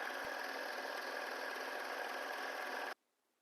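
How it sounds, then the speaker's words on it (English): A serger or sewing machine runs steadily while stitching the side seams of a Renaissance chemise dress, one continuous close whir for about three seconds before stopping abruptly. "you'll want to do this with your serger if you have a serger, or you'll just stitch it with your sewing machine"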